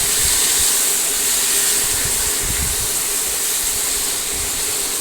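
Potatoes and curry leaves sizzle loudly in hot oil with asafoetida, a constant, close hiss broken by a few soft low bumps and no talking.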